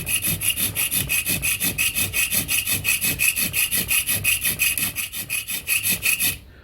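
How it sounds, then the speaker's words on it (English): Steady, rhythmic rasping strokes of a hand file cutting a decorative border into wood, about twenty even back-and-forth passes, close and loud, with no talk. "start your filing and count how many strokes of the file you do"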